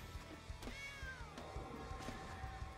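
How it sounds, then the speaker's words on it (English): A cat meows in MTG Arena when a cat card is cast during a sealed Ravnica Allegiance match. One drawn-out, wavering meow sounds faintly over quiet, steady game background sound. "we're definitely gonna cast the kitty"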